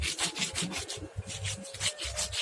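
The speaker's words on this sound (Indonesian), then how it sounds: "Lalu masukkan garam dan giling hingga halus." Chili, spices and salt are ground in a mortar, a close, fairly quiet rhythmic rasping and scraping that repeats in quick strokes throughout, with no talking.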